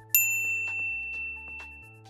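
A bright notification bell dings once, a clear ringing chime with a sustained shimmering tail over a soft low tone.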